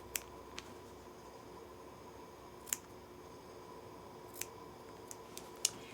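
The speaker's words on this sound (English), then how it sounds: "And now trim your little ears off your blocks just using scissors." Scissors trim the small fabric points off quilt blocks, a handful of crisp, quiet snips spaced irregularly over a faint hiss.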